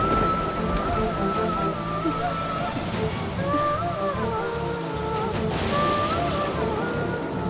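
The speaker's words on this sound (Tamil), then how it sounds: "இடி இடிச்சிட்டு பயங்கரமா மழை பெய்யுது." Heavy rain pouring steadily with thunder around, a dense continuous hiss close by, with voices talking over it.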